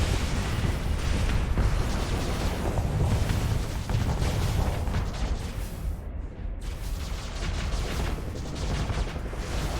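Space combat weapons in the game Starsector fire continuously, a dense rumbling barrage of blasts and explosions with no pauses.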